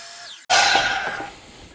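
A miter saw set to a 40-degree miter cuts a 3/4-inch piece of wood: a short quiet whir, a brief pause, then a loud abrupt bite of the blade into the board, with a steady high whine carrying through the cut.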